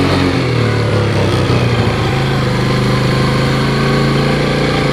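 A Yamaha Champ golf cart UTV engine runs with a steady, loud, close mechanical drone and a constant pitch during a ride, with no talk.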